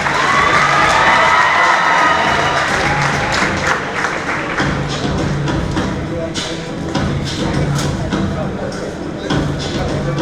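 A crowd at an honouring ceremony claps and cheers loudly, with shouts and whoops strongest at the start, then settling into steady applause with scattered thumps.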